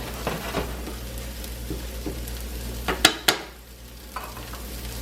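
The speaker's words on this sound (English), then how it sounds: "Now you really want to flip the omelet." An omelette fries in a pan with a steady, low sizzle. Around the flip, a couple of sharp clanks of the pan and utensil cut through.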